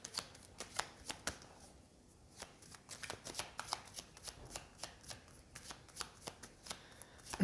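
Cards are riffled and shuffled repeatedly, crisp rapid snaps in bursts with short pauses, close and quiet.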